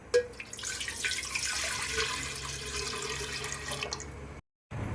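Water pours from a tap into a steamer pot for momos in a steady rushing stream with a splashy start, then cuts off abruptly near the end.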